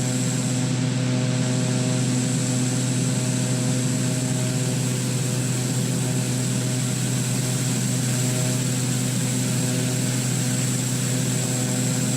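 Steady drone of a simulated Pilatus PC-12 single-propeller turboprop engine in Microsoft Flight Simulator 2020, a constant loud hum with a high whine on top, unchanging throughout with no talk.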